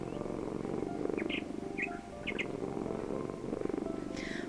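A cat purrs steadily and close up, a low rhythmic rumble throughout, with a few faint bird chirps in the background.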